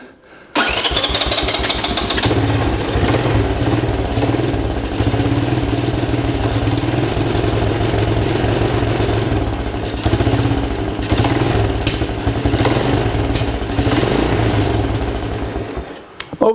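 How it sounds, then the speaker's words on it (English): A 1985 Honda ATC200M ATV engine cranks and starts, then runs with a rough, uneven putter, with sharp exhaust backfires popping through now and then. "We got some backfires coming out the exhaust."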